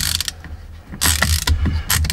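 A ratchet clicks rapidly while backing screws out of the steering wheel of a 2012 Nissan Rogue, loud and close in short bursts with brief pauses between them.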